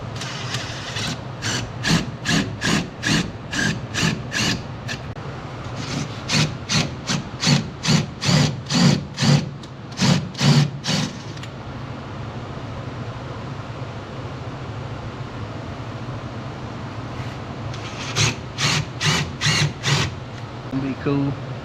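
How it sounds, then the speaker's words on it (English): Power drill boring out riveted brake line fasteners on a 2021 Polaris Ranger 1000, in repeated rhythmic bursts of whirring and grinding, pausing in the middle, then resuming briefly near the end against steady background noise. "Your brake lines on the Ranger are riveted in. You have to drill those rivets out."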